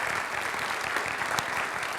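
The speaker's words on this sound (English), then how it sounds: "round of applause for the G1 section" A crowd claps at a military unit's volunteer awards ceremony, a short burst of dense, steady applause from an audience in a hall.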